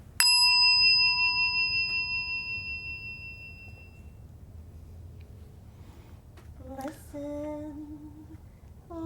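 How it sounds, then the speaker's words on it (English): A meditation bell is struck once at a dharma talk, ringing out with a clear sustained tone that slowly fades over several seconds, followed by a faint softer tonal sound near the end. "then the bell is invited."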